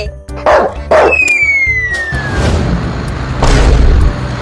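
A cartoon dog gives a few sharp, loud barks and yips, close by, mixed with comic sound effects including a whistling slide and a booming hit.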